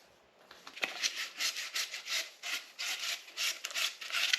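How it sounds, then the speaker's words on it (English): A pipe cutter rolls around a motorcycle fork tube on a 1991 Harley-Davidson FXRS, making a steady, rhythmic scraping rasp in repeated strokes, close and moderately loud with no talking. "So you just kind of roll it across, just kind of spin this a few times like this,"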